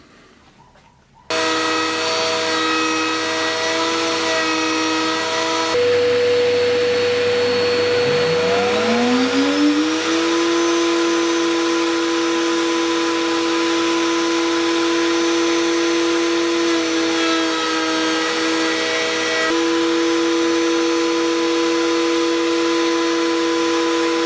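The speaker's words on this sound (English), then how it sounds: "I've cut the centre out of the drive wheel using the circle cutting jig once again" A power tool fitted with a circle cutting jig starts up and cuts the centre from a bandsaw drive wheel, giving a loud sustained whine that rises in pitch as it spins up, then holds a steady tone.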